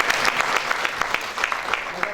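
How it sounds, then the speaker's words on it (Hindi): Audience applause after a student stage play, a full steady round of clapping from many hands at close range, continuous for the whole two seconds. "इनके लिए भी जोरदार तालियां बजाएं।"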